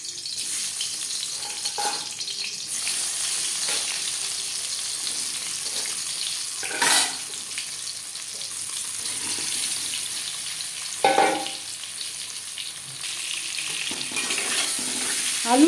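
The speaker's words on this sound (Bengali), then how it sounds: "সবার প্রথমে আমি আলু ভেজে নেব" Potatoes fry in hot oil for chicken biryani, giving a steady broadband sizzle throughout with a few louder bursts as pieces are moved and stirred in the pan.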